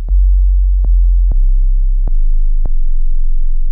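A clean synth sub bass from the Relentless Punch Massive expansion plays alone as a deep, loud, sustained tone, with sharp clicks marking each new note in a slow, uneven sequence.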